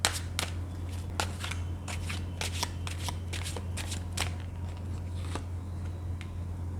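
Tarot cards are shuffled close by, a run of crisp riffling snaps and soft slides repeated at an uneven pace over a low steady hum.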